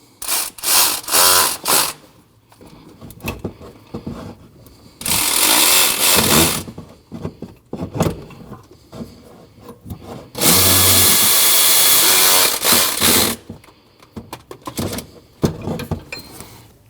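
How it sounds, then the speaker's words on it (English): A power tool, likely an impact-style driver, tightens the belt tensioner bolts on a 2012-2021 Nissan NV2500 with 5.6L V8. Several loud bursts, two of them sustained for about two seconds, alternate with short rattling pulses and pauses close by. "Now you can tighten all three bolts."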